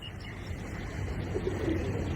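Madrasi pigeons cooing in a loft, soft low coos repeating over a steady background hiss, close and moderately quiet, with a faint chirp near the start.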